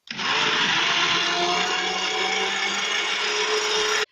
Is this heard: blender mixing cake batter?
yes